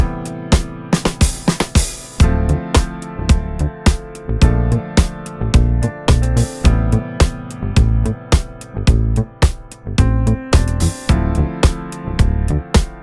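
A Rickenbacker-style bass plugin plays a funky, syncopated bassline picked with the right hand, loud, punchy plucked notes in a tight repeating groove with sharp attacks over a steady beat.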